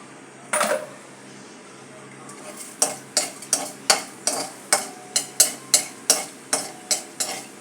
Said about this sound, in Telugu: దీంట్లోనూ ఇప్పుడు పోపు దినుసులు వేసేసుకుందాం. ఆవాలు, మినపప్పు, జీలకర్ర, శనగపప్పు, ఎండుమిరపకాయలు.